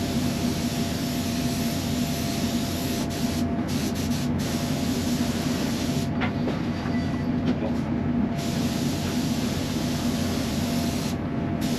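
Spray can applying red paint to the sun-visor of an ERF truck cab with a Cummins engine, a steady, close hiss that runs unbroken throughout.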